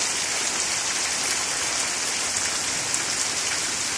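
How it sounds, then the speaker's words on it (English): Heavy rain pours down in central Louisiana beside a roadside ditch that is nearly overflowing, making a steady, dense hiss and roar that holds at an even loudness throughout, with no voices. "Wow, that's a lot of rain."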